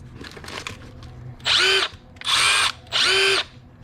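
Milwaukee M12 Surge hydraulic impact driver, model 2551-22, running unloaded in three short bursts of about half a second each, a loud whirring whine that speeds up and stops abruptly with brief gaps between, with faint background noise before.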